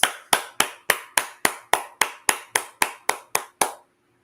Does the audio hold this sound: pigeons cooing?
no